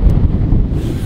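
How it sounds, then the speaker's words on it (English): Strong, cold westerly wind buffets the microphone in a steady, loud low roar that runs without a break, with no voices. "this is a westerly wind. It's pretty strong."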